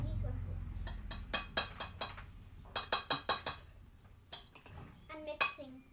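Utensils clinking against dishes while food such as rice with ketchup is mixed, a series of bright, sharp clinks in irregular bursts close by, with low background noise and talk.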